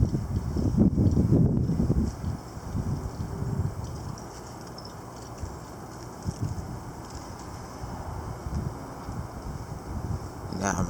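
Strong storm wind gusts and buffets a microphone outdoors, a loud rush in the first two seconds easing to a steadier blowing roar, with rustling in between.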